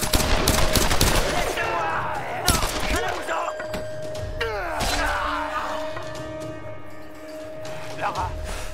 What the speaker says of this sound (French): Ah, des coups de feu.